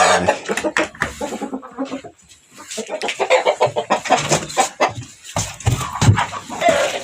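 Chickens cluck and squawk inside a henhouse in a busy, uneven stream of close calls, with scuffling and a brief quiet gap partway through.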